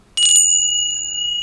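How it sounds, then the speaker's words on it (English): A small tincture bell used for space clearing is struck once and rings on with a clear, sustained high metallic tone. The tone fades only slowly and is heard alone, close and bright. "I really like this as a way of having a bell."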